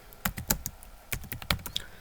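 Typing on a computer keyboard while entering an entry into a spreadsheet, a quick irregular run of crisp key clicks with a few sharper strokes, close and fairly quiet, with no voice.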